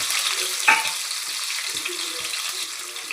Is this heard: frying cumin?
yes